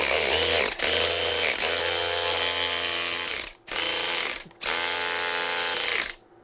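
A DeWalt DCF512B 20V Atomic 1/2-inch drive cordless ratchet whirs loudly and close in three bursts, running steadily with two brief pauses between the runs and no talk.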